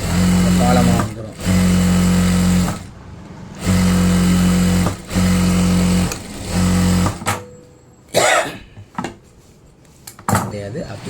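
A sewing machine stitches folded fabric, running in several loud, steady bursts of a few seconds each with short pauses between them. Lighter handling clatter follows as the run ends.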